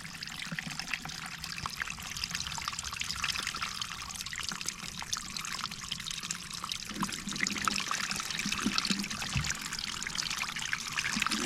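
Stream water trickles steadily into a container being filled on the Appalachian Trail, a faint continuous pour with a soft hiss throughout, no voices.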